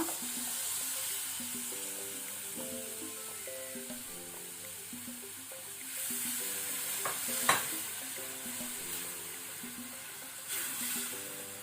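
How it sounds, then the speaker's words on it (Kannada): Tomato paste fries in a pan over low to medium flame with a steady sizzle and intermittent scraping stirs, one sharper clatter of the utensil partway through, close and continuous, with no voices. "ಇದನ್ನ ನಾವೀಗ ಲೋ ಟು ಮೀಡಿಯಂ ಫ್ಲೇಮ್ ಅಲ್ಲಿ ಒಳ್ಳೆ ರೀತಿ ಫ್ರೈ ಮಾಡ್ಕೊಳ್ಬೇಕು."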